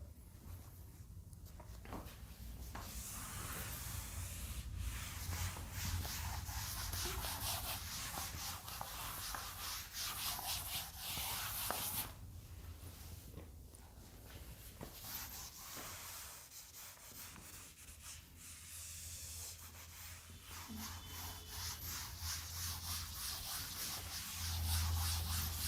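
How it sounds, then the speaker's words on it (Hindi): Writing is rubbed off a classroom board with a soft, continuous scrubbing and swishing that comes in faint, uneven strokes, with no talk. "इसको रब कर देते हैं।"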